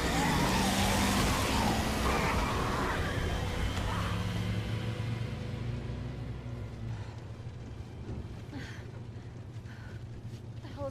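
A car drifts in the video game Resident Evil 2, its engine roaring and tyres skidding loudly up front before fading into a lower rumble under a wailing siren and game effects.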